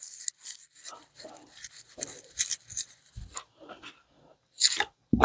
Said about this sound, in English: I'm not going to cut all this off, but I am going to trim some of this thick stuff off.